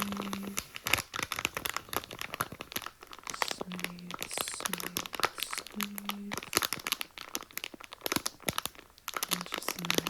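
Sour belt candy packaging in red, blue, orange and green crinkles and crunches up close in a steady stream of light rustles and sharp crackles, with soft tonal hums between bursts.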